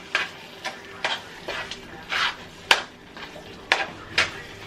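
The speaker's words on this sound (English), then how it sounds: "let's give it a stir" Rotel cheese dip being stirred in a pot: a spoon scrapes and clinks about eight times in an irregular rhythm, close and moderately loud over a faint background hiss, with no voices.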